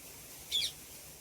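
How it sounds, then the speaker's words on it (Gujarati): A parrot gives one quick, high-pitched call against quiet background noise. "તો મિત્રો અહીંયા છે ને પોપટ બોલે છે."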